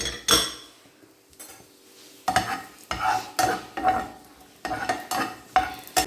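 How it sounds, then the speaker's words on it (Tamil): Dried raisins fry in hot oil in a pan for Kashmiri pulao, stirred with a metal spoon that scrapes and clinks against the pan in repeated bursts over a soft sizzle, close and fairly loud, no talk. "இதுலேயே நம்ம இந்த திராட்சை, காஞ்ச திராட்சை சேர்த்து வறுத்துக்கலாம்."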